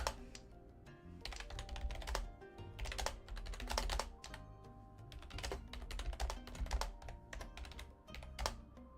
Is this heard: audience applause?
no